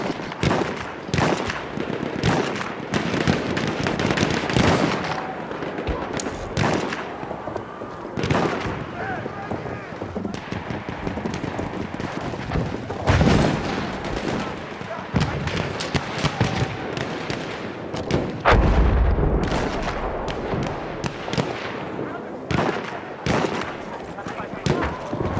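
Rapid video game gunfire with machine-gun bursts and scattered single shots, loud and nearly continuous, with voices calling out over the shooting.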